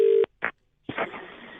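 A phone line gives a steady tone, then a few short dialing beeps and a brief gap, followed by a muffled burst of line noise, all in a prank call on a radio show.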